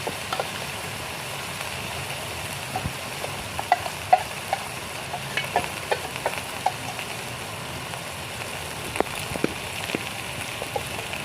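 Spice paste of ground chili, ginger and cumin fries in a pan after the onion and garlic, giving a constant soft sizzle and crackle with scattered spits and stirring scrapes throughout.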